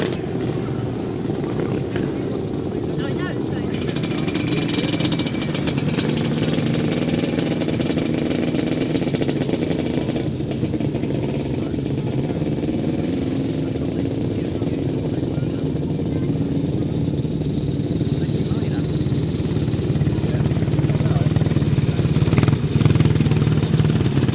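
250cc solo grasstrack motorcycles lap the track in a steady, continuous engine drone that swells slightly toward the end, heard from a distance under an announcer's talk.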